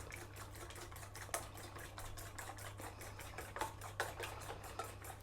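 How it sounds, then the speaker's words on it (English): Eggs being whisked together for a traditional Christmas cake, a quick regular run of light tapping strokes against the bowl, close and fairly quiet over a low steady hum. "So just give these a good whisk together."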